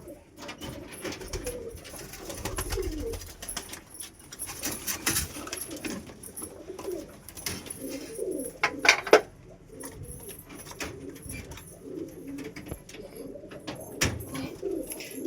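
Pigeons in a loft coo in low, repeated rolling calls nearby as feeding bowls clink and rattle, with scattered light knocks and a few wing flaps.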